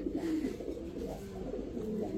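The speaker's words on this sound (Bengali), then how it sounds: "এটা আফসান গ্রিজেল কবুতর। রেসার।" An Afsan grizzle racing pigeon in a cage gives soft, low cooing calls, close and continuous over a faint background hum.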